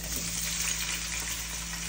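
Onions sizzle and crackle steadily as they fry in a pot, a continuous close hiss with no voices.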